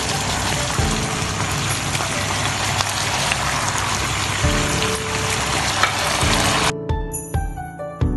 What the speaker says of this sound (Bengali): দিয়ে দিচ্ছি একটু পেঁয়াজ বেরেস্তা।